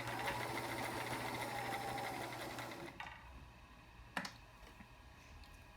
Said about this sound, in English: So now I will show you the zigzag stitch